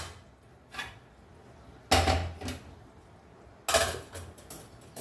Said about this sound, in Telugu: ఈ గిన్నె పక్కకు పెట్టేస్తాను